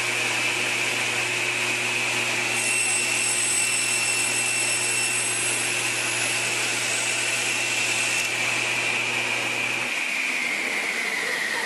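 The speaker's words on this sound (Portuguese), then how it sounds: "É uma serra com ângulo de ataque negativa. Ela risca o material antes de cortar." Freud LU3C 0200 negative-hook circular saw blade with 48 teeth cutting an MDF board, a steady loud high whine with a constant motor hum running throughout, tapering off near the end as the cut finishes.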